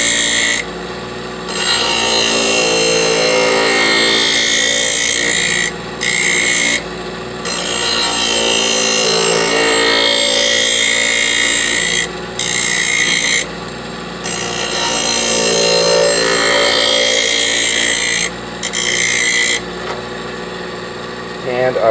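A scissor-sharpening grinding wheel runs steadily with a loud, continuous abrasive rasp, broken by several brief drops as the blade lifts off the wheel.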